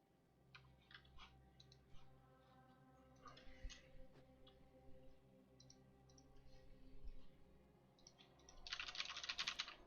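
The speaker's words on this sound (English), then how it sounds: "You're probably still hearing the keyboard, huh?" Computer keyboard typing heard through a streamer's microphone, quiet irregular bursts of clicking keys with a louder clatter at the end.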